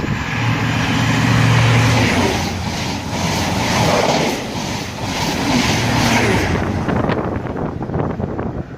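A Class 43 diesel power car train (HST) rumbles past close by at Slough on the Great Western Main Line, with a heavy engine drone and rushing noise, fading toward the end with some rattling.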